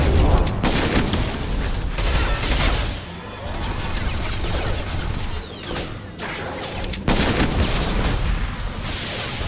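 Heavy weapon fire in Mass Effect 2 Legendary Edition, aimed at a heavy mech, comes as loud, dense bursts of shots and booming impacts that continue almost without a break.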